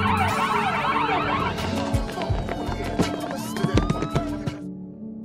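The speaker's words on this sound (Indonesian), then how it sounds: "alarm keamanan di rumah ibu Jules berbunyi" A house security alarm goes off in a scene from the film The Intern (2015). A warbling, siren-like wail sweeps up and down over busy background clatter and movement, fairly loud throughout.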